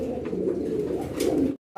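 A white short-piece pigeon coos at a pigeon farm, a low, close, steady warbling call that cuts off abruptly near the end.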